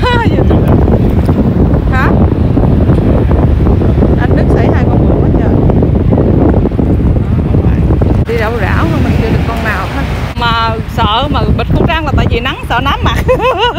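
Strong sea wind buffets a boat near the shore during blue crab fishing, roaring steadily throughout beneath excited talking and shouts from several people.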